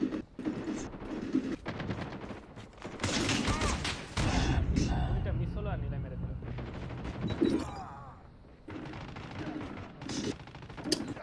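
Sniper and other gunfire in the battle royale video game Call of Duty Mobile: loud, chaotic bursts of shots and crashes that come and go, mixed with someone talking throughout.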